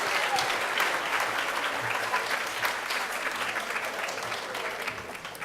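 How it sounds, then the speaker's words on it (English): A tenant community gathering claps warmly to welcome a speaker, a dense, even round of applause that slowly tapers toward the end. "let us give a very warm applause to Chairman Phil Mendelson."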